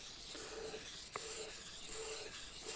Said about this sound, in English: I'm actually pulling the blade against the oil stone and creating